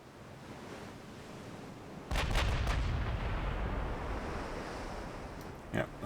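Heavy 16-inch naval guns fire in a naval warfare video game, a sudden deep boom from a salvo that rolls into a long rumbling wash over a steady ocean-like background, followed by a fainter thud near the end.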